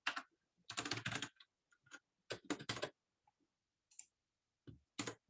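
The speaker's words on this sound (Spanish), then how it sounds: "Si a alguien le molesta que se escuche mucho el teclado, me avisa" Computer keyboard typing in bursts of rapid clicks with short pauses between, close and clear, with no talking.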